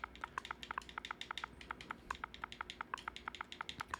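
Quick, light clicking of keys on a computer keyboard, steady typing with a fairly even rhythm, close and quiet with a faint hum behind it.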